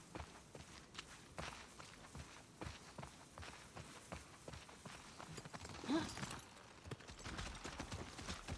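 Horse hooves walk across the ground in The Last of Us Part II, a steady, even clopping at a moderate pace that carries through the whole stretch over a low ambient game background.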